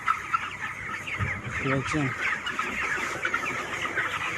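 Chickens on a poultry farm cluck steadily in a dense flock, close and continuous, with a brief spoken word from a person among them.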